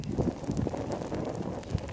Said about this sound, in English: It's windy, and I don't want it to get out of control here.